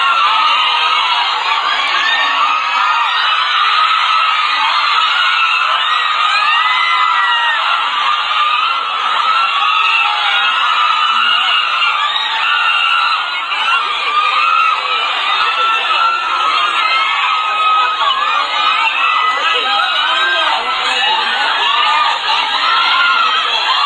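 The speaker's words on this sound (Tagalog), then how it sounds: "nagwawala po ang crowd kasi nga po nakita na nila si" A packed crowd screams and cheers nonstop at a movie world premiere meet-and-greet, shrill young voices blending into a loud, continuous roar with no break.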